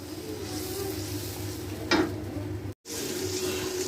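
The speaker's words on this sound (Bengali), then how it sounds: "মশলাটাকে একটু ভেজে নেব হালকা করে" Spice masala with ground black pepper fries lightly in a pan. A steady sizzle runs throughout with one brief scrape midway and a momentary cut-out near the end.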